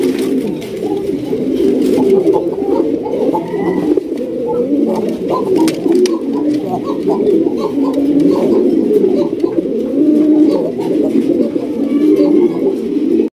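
A pair of black gold archangel pigeons coo close by in a steady, continuous run of soft, overlapping burbling calls that lasts throughout.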